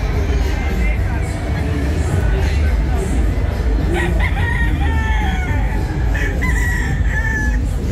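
A gamecock crows repeatedly over steady clucking of chickens at a game fowl festival, with a busy background of murmuring voices.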